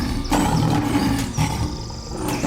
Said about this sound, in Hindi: बाघ जोर से दहाड़ा